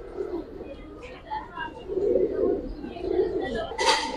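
An active Giribaz pigeon, one of a flock of high-flying pigeons, gives low throaty coos in soft repeated bursts, close by, with faint voices talking in the background.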